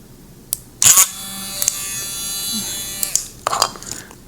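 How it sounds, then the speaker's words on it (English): A rotary tool whines in a short high-speed burst, drilling holes into hardened epoxy putty, with clicks and handling noises before and after. "I'm going to sink some holes into this by now nicely hardened epoxy putty. And I'm going to use my trusty rotary tool."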